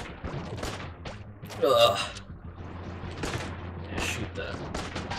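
Gunfire in the dungeon-crawler shooter game Enter the Gungeon, with a busy burst of shots and a louder blast near the middle, under steady game music while players talk over it.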